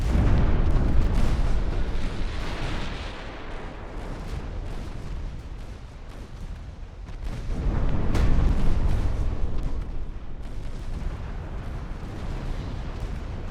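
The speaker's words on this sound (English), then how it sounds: "Torpedo hits on Lepanto." Heavy, rumbling naval explosions from torpedo strikes on a battleship in Ultimate Admiral: Dreadnoughts, loud booming surges that swell and fade across the whole stretch with no voices.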